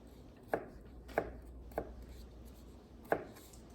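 A knife chops onion into small pieces on a board, four crisp, separate knocks at a steady pace with one longer pause before the last, quiet and close with no speech.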